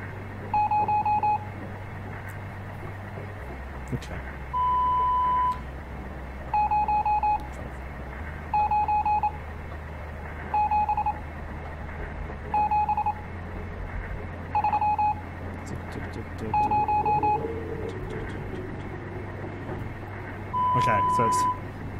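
Short electronic tone beeps of Morse code from the video game Stories Untold, repeating in evenly spaced bursts over a low steady hum, with a few longer tones mixed among the short ones.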